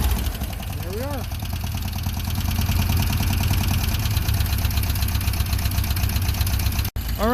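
Old rusty Beetle with a two-stroke turbo engine idling just after a cold start, a steady close rhythmic putter with a low throb, a brief cutout near the end, and a voice talking over it.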